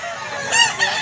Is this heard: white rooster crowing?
yes